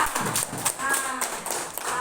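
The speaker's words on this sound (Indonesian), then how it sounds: "Jadi sekarang kita tepuk tangan dulu semua." A class of students clapping their hands together in a group, a dense burst of overlapping claps with voices mixed in.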